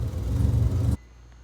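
A Mazda RX7 rotary engine idling roughly while it warms up, with a low, loud, uneven rumble that cuts off abruptly after about a second, leaving faint background hiss.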